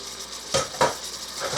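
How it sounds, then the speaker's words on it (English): A metal lid comes off a cooking pan of hamburger gravy with veggies and meat, giving a couple of close clanks and scrapes over a soft simmering hiss. "take my lid off here"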